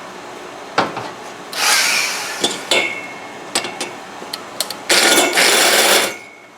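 Valve seats being cut on 1914 VW cylinder heads: sharp metallic taps and clanks, then two bursts of loud grinding or cutting noise, close up and with no talk.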